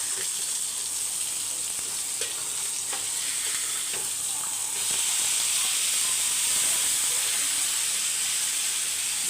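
Food roasting in a pan over a low flame, a steady soft sizzle and hiss with faint stirring scrapes, growing slightly louder and brighter partway through, with no talking.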